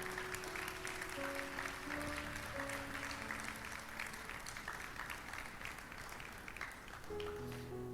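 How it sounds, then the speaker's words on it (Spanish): Church congregation applauding during a Spanish-language sermon, a steady, fairly soft wash of clapping that runs throughout, with sustained low keyboard notes underneath. "¿Le puedes dar un aplauso a la palabra del Señor?"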